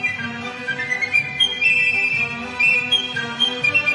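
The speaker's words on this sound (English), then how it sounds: "you're whistling" Someone whistles a lilting tune, close and clear, with wavering notes and short pauses between phrases.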